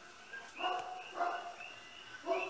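Dog barking indoors at some distance, a few faint yipping barks spread over a couple of seconds, fairly quiet against room noise.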